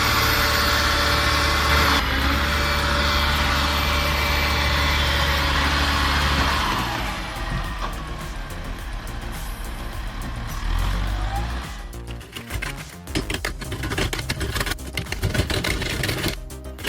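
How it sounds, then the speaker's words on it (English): An LKT-81 turbo forestry skidder engine drags a heavy load of logs, giving a loud, steady engine drone that turns rougher and more uneven toward the end. "the LKT-81 turbo claws forward, dragging a heavy load of logs. Tires sink, chains bite, and the engine growls."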